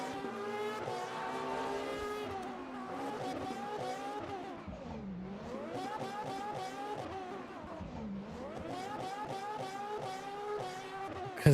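Racing video game cars on a Bahrain circuit, sped up to double speed, give a continuous high-pitched engine whine with rising and falling pitch sweeps as gears shift, loud and steady throughout, with no talk.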